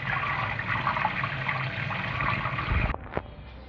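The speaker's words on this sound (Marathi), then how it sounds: "मस्त मी असा हा पालक छान धुवून घेते" Fresh spinach is washed by hand in water, giving a steady splashing and sloshing close by that stops abruptly near the end, followed by a few faint drips and knocks.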